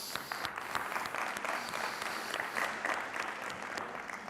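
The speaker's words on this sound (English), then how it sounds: "please, let me invite everybody to clap our hands to Sarah Nogler" Audience applause at a Web3 summit held at IBM Studios in Milan, moderately distant, with dense, continuous clapping from a crowd and scattered sharper claps standing out.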